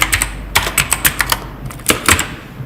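A computer keyboard is typed on up close in quick, uneven bursts of crisp key clicks, with a short pause midway and no voices.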